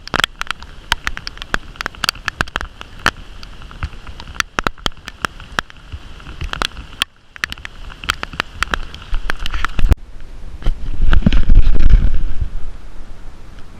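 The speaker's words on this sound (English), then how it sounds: "Because it's pouring." Pouring rain pelts a fishing boat on the Tennessee River, a dense steady patter broken by sharp drops striking the hull, swelling louder toward the end.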